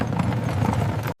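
Horse hooves clip-clop at a steady trot as a team draws a chariot, dense and close for about a second before cutting off abruptly into near silence.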